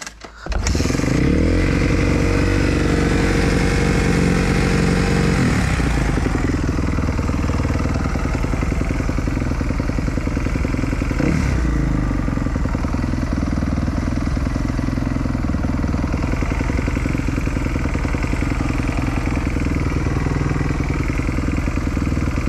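A Kawasaki KX250F motocross bike fires up cold and runs loud and close, its rough idle swelling into several throttle blips and revs over a constant engine drone.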